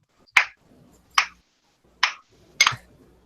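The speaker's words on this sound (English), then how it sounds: "I hear clapping." Four sharp, isolated hand claps, spaced about a second apart in a slow, irregular rhythm, fairly close and alone in a quiet room.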